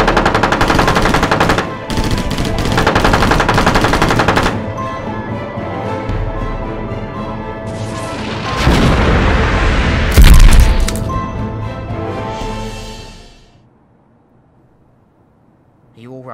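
Sustained machine-gun fire and heavy booming explosions from a Doctor Who Supremacy toy-battle scene, loud bursts in several waves with a large blast near the end before the sound drops to near silence.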